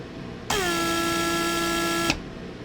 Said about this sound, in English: Okay, antennas are pulled in.